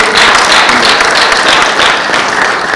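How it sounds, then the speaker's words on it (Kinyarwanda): A crowd gives a loud, steady round of applause for teachers, with continuous clapping at an even level throughout. "Mu mpera amashyi abarezi aho baherereye hose"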